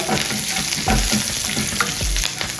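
Fresh curry leaves crackle and sizzle loudly in the hot tempering for a fresh coconut chutney, with quick spatula scrapes and stirring thumps close by and no voices.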